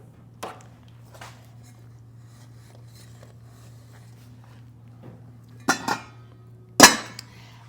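A pot lid clanks down onto a pot in an outdoor solar-cooking setup for beef fajitas, with two sharp metallic knocks near the end after a few faint handling taps, close and clear over a low steady hum.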